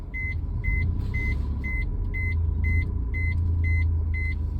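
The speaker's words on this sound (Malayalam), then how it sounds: "പതിയെ വണ്ടി നീങ്ങട്ടെ" A car in a driving lesson creeps slowly forward, its low engine rumble steady and close while a sharp electronic beep repeats at an even pace about nine times.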